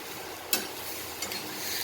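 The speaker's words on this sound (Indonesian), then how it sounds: "Lalu kita campurkan ke ini yang bagian yang sup yang kental" Fish tail soup being stirred together in a pot, a quiet scraping swirl with two brief louder strokes against the pot, no talking.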